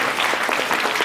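Steady, dense applause from a seated audience at a Shrimad Bhagavat Katha religious discourse, fairly close and filling the whole moment with no voice above it.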